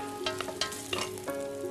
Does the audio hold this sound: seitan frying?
yes